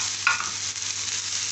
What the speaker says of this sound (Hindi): ये जो हमने प्याज दिया है 1 अदद, ये ऐड कर देंगे और इसको भी हम हल्का सा फ्राई करेंगे इसके साथ।